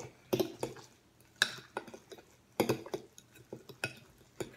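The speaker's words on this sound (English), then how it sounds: "Just stir it." A spoon stirs guacamole in a bowl, giving soft squelches broken by irregular clinks and scrapes against the sides, close and fairly quiet.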